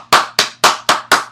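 Hands clapping five times in a brisk, even rhythm, each clap sharp and close with a short decay. The claps are loud and isolated, with no crowd and no talking.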